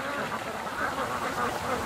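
A flock of ducks quacks in a dense, continuous chatter outdoors near a creek on a warm autumn day, steady and fairly close throughout.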